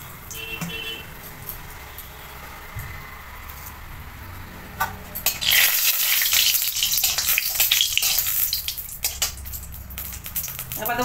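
Dried red chilies hit hot oil while greens are being tempered, giving a loud bright sizzle that swells sharply midway and crackles steadily to the end, close by with no talk.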